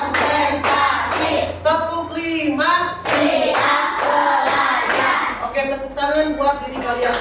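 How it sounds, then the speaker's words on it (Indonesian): Children clap their hands in a classroom while voices chant and sing along over the claps, in a lively patterned rhythm. "Oke, tepuk tangan"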